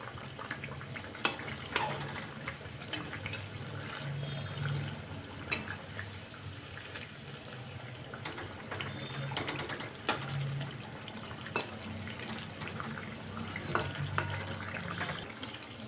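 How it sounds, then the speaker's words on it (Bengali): Gokul pithe, sweet Bengali dumplings, frying in hot oil as they are turned until brown, giving a steady low sizzle and bubbling with faint clicks throughout, no voices. "এভাবে উল্টে পাল্টে ব্রাউন কালার করে ভেজে নিতে হবে।"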